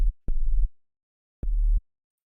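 An old Orca synthesizer processed with effects plays two low, buzzy sustained tones separated by a pause, with a faint thin high whine over each note.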